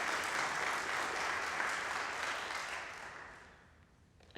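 Steady applause from a crowd, sustained and full, then tapering off toward the end.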